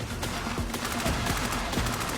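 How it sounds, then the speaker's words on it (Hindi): Gunfire in a shooting video game crackles in rapid bursts and scattered single shots, a dense, loud fusillade layered over a low steady drone, with no talking. "मुझे बहुत गोलियां लग रही हैं इस वक्त"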